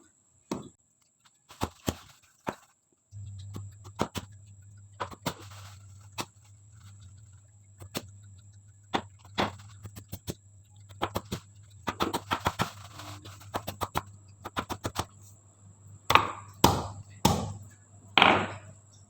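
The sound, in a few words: pounding ginger with a pestle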